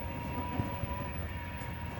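A tram rolls through the tunnels of an underground salt mine, giving a steady, close rumble with a faint tonal hum and no talk over it.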